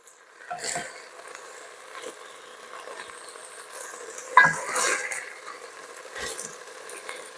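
Chopped onions and celery sizzle steadily in a hot pan, a soft continuous frying hiss broken by a few scraping stirs and clinks of a utensil, with no talk.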